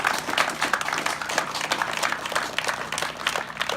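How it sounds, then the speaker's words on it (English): An audience claps steadily at a trophy and awards ceremony for the Freestyle Masters UK 2018 flying event, a dense, even wash of applause from a crowd of many hands with no pause. "And you all deserve a round of applause."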